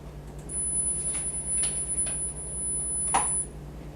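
A steady, faint high-pitched 10,000 hertz test tone, thin and piercing, held for about three seconds over low background hum with a few soft knocks.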